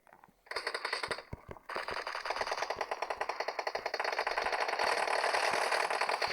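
Rapid automatic gunfire in the battle royale game PUBG, with an M4 rifle in play: dense bursts of rattling shots, briefly pausing then resuming into a continuous loud volley.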